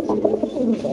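A fancy pigeon on a pigeon farm gives a soft, close, throaty coo that rolls and wavers through one brief burst.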